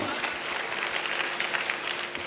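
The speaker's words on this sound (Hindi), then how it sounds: "आप सभी के लिए एक जोरदार वाली तालियां होनी चाहिए दोस्तों, जोरदार वाली।" Audience applause at a gathering, a continuous dense wash of many hands clapping at moderate distance, steady throughout with faint crowd murmur beneath.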